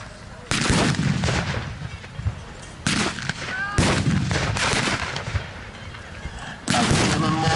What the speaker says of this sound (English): these mortar shells are landing amongst the Soviet troops